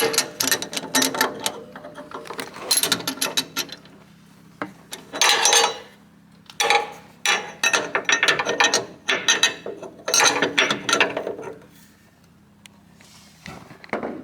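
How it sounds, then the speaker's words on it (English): A wrench ratchets in bursts of clicks while the lower collar of a MeisterR ZetaRace coilover on a Mazda Miata track car is tightened. The bursts are close and fairly loud, with short pauses between them and no talking. "And then you use the wrench the other way, and you just tighten it in."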